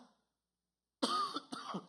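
A man coughs twice in quick succession, close and fairly loud, after a brief silence, with no speech.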